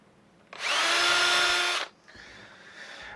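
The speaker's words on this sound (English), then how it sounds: "that is a 1/16 drill bit that I was using on that" A power drill with a 1/16 inch bit whines loudly for just over a second during knife and scabbard work, then stops abruptly, leaving a faint lower hum behind.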